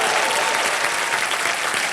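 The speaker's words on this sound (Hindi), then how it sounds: "जोरदार तालियां उस बैंड के लिए" Loud, dense applause from a TV game-show studio audience fills the whole stretch, steady and close, honouring a band after its performance.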